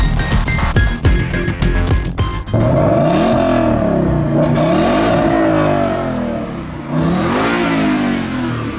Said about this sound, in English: I've always loved the sound of the new 5-liter, and you know what? It's just, it's mean and it's sharp.